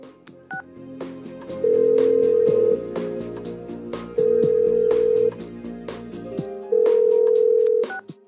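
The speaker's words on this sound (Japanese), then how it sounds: "じゃあちょっと待ってろ、もう一度電話してみるから。" Phone number dialed in the video game Persona 4 Golden: a quick run of short keypad tones followed by three long, steady ring tones with pauses between, clear and close.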